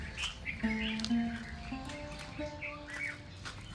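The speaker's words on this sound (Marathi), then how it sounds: "हे जे झाड आहे त्याच्यावरती पक्षी आहेत. फक्त त्या पक्ष्यांचा आवाज आपल्याला इथे येतोय" Birds chirping and calling from a fig tree beside a quiet village temple, several short bright tweets scattered over a hushed background, with a faint tonal hum underneath.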